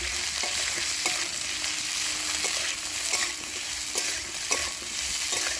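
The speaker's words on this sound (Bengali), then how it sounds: "এবারে হালকা হালকা করে ভেজে নেবো আমি" Small cauliflower pieces, lightly salted, frying gently in a pan, with a steady soft sizzle and occasional sharp clicks and scrapes of stirring, close and moderately quiet with no voices.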